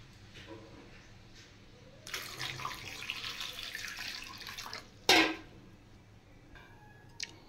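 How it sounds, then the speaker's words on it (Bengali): Water runs from a kitchen tap onto raw bananas in a pot for boiling, a steady rushing stream for a few seconds, then a sharp splash or clatter and a few faint drips in a quiet room. "এবার আমি জল দিয়ে দেব।"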